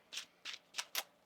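A deck of tarot cards is shuffled by hand in four quick, crisp riffling bursts, close and quiet.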